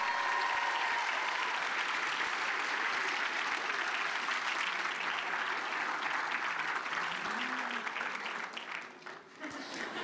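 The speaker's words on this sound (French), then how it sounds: "On peut encore l'applaudir bien fort" Sustained applause from a convention audience cheering a handmade-costume cosplay contestant at Japan Impact 2026, steady dense clapping throughout that thins slightly near the end.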